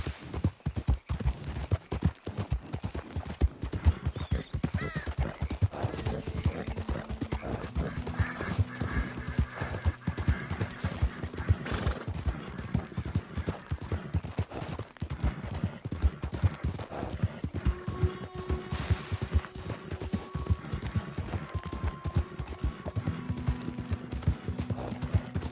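A horse gallops in Red Dead Redemption Online, with rapid rhythmic hoofbeats running close and steady throughout, a short whinny partway through, and faint game sounds in the background.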